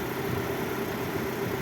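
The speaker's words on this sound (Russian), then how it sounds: "Вот проблема: при запуске кондиционера свистит ремень" A Lada Kalina Cross with a 16-valve engine idles with the air conditioning on, a faint steady engine hum carrying a thin continuous whistle from the slipping alternator belt.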